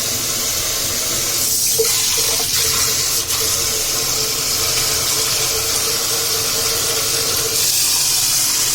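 Tap water runs steadily into a sink while dishes are washed, a continuous loud hiss with faint clinks of dishes over it and no talking.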